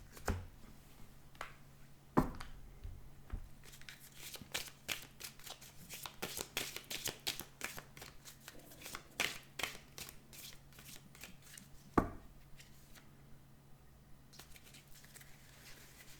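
A tarot deck is reshuffled by hand in soft rapid bursts of riffling and patter, with a few sharper card snaps, close and quiet.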